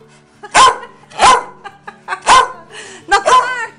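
A small dog barks four or five times in short, evenly spaced bursts, loud and close, with a brief gap between each bark.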